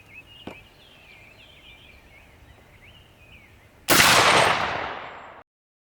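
A 12 gauge shotgun fired at body armor holding a steel dumbbell: after a quiet stretch with faint background birds, one loud, sharp blast hits and fades out over about a second and a half.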